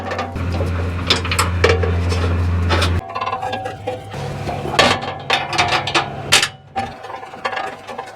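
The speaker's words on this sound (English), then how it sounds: "I'm just gonna angle this and fit it underneath there and up into place while I get these bolts started." Bolts being threaded by hand into a skid plate shield held up under a Toyota Land Cruiser, with close metallic clicks, ratcheting and rattling taps coming in irregular bursts over a low steady hum.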